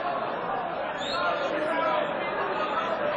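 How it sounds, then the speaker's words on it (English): Steady crowd chatter and murmur from the audience at a Mosconi Cup pool match, a dense continuous hubbub of many voices with no breaks. "The crowd is going crazy"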